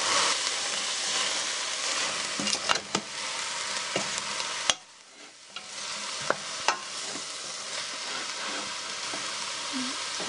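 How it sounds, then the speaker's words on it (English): Meat browning in a pan over medium-high heat with vegetable oil and spices for Moroccan couscous, a continuous close sizzle broken by sharp utensil clicks and a brief quieter dip midway. "I'm just going to let the meat brown for 5 minutes or so"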